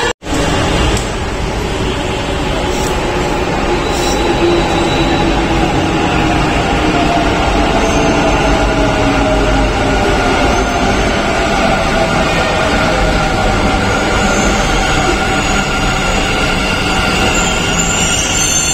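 A metro train at Yeshwantpur, Bangalore, rumbling loudly and continuously for the whole stretch, with wheels squealing on the rails and no voices heard.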